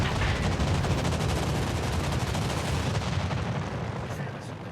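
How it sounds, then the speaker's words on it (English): A torpedo salvo slams into a Musashi battleship in World of Warships Legends, a dense, rapid barrage of booming impacts and rumbling blasts that holds loud and continuous before easing slightly at the end. "There's no way he's going to survive this salvo of torpedoes."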